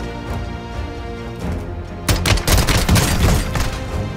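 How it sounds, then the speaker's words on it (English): Rapid gunfire in a first-person shooter video game, a loud burst of shots that starts suddenly partway through over a dense game soundscape. "he shot me through the wall"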